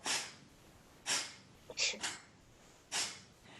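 Several sharp, forceful exhales through the nose, short bursts of breath repeated at irregular intervals, close and fairly loud.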